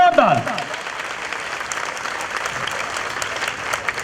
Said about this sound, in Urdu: تو خداوند کے جلال کے لیے زوردار تالیاں بجائیں جی، زوردار۔